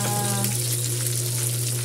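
Chopped onion sizzles steadily in oil in a frying pan, a continuous close, fairly loud crackling hiss with a low steady hum underneath and no voices.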